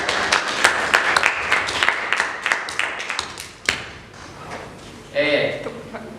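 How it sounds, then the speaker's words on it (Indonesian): A school class claps for a group that has just finished presenting. Sharp, scattered hand claps from a modest number of students rattle for a few seconds, then fade into classroom murmur and a teacher's voice. "tepuk tangan untuk kelompok."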